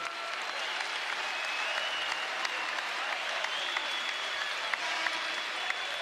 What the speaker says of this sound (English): Gabe Madsen's going to get a nice hand.